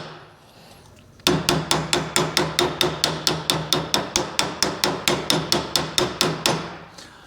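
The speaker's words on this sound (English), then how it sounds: "I've been love tapping this gently with a very light hammer this entire time" A very light hammer taps a bearing into its seat on the anvil side of a vise while working on a Ford 801 tractor hydraulic pump: about two dozen sharp, evenly spaced metallic taps, close and loud.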